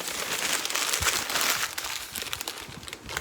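Paper crinkles and crunches continuously up close as a sheet of newspaper is crumpled by hand, a dense rustling texture with no talking.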